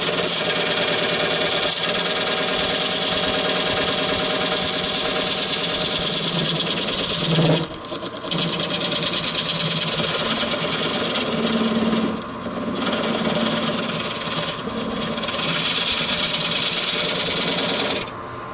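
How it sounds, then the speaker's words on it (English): A regular skew chisel cuts a recess into a natural-edge oak crotch bowl turning on a wood lathe. Loud, continuous buzzing scraping comes from the lathe motor and the cutting, with brief dips where the tool lifts off, and no talk. "Regular skew to make the recess."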